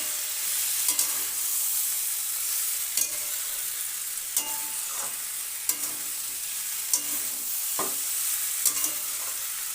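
Mixed vegetables for a vegetarian chhokka sizzle steadily in a pan while a spatula stirs them, scraping at irregular intervals over a constant frying hiss.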